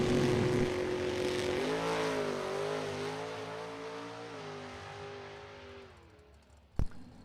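A 2002 Pontiac Firebird drag car on a time trial run roars loudly at first, then its engine drone fades and falls in pitch as it pulls away down the track, ending with one sharp bang.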